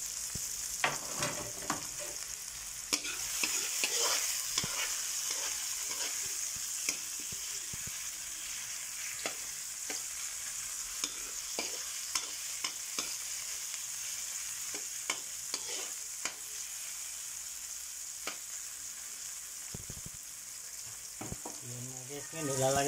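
Onion, garlic, ginger and tomato sauté in a pan for a squid pinakbet, a continuous close sizzle broken by frequent clicks and scrapes of a spatula stirring.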